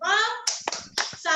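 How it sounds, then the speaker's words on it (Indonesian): Children chant a rhythmic 'tepuk salut' clapping cheer, their sung voices broken by a few sharp, close hand claps in time with the chant. "Adik-adik kita tepuk salut yuk untuk Bunda Isti dan juga Gina. Tepuk salut."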